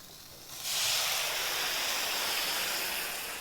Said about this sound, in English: I'm going to put a little bit of water in my ham.